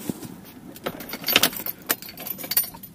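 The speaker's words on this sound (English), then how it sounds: "okay, so ignition's on." Car keys jangle and click in the ignition of a Vauxhall Combo van, a cluster of sharp close metallic rattles and taps spread over a few seconds with no talking.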